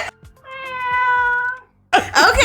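A cat gives one drawn-out, tonal meow lasting about a second, loud and close, followed by a short pause and then a burst of people talking and laughing.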